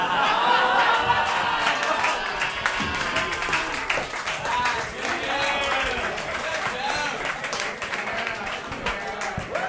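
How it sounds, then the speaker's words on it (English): A comedy club audience at a New York roast battle breaks into sustained, dense applause with cheering, steady and loud throughout as the crowd reacts to a joke. "Ladies and gentlemen, give him a round of applause."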